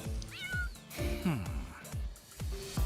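A domestic cat meows repeatedly in a radio advert, several short rising and falling cries in quick succession, fairly close, with faint background sound between them.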